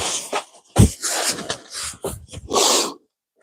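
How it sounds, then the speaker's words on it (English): Someone blowing their nose indoors at close range, a few sharp, wet nasal bursts and snorts with breathy gaps, ending in silence. "I need to blow my nose."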